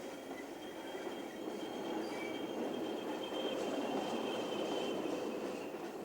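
A freight train hauled by Class 20 diesel locomotives rumbles past at a steady roar on the Rosyth branch in Scotland, 1991, with a faint high squeal of wheels on the rails.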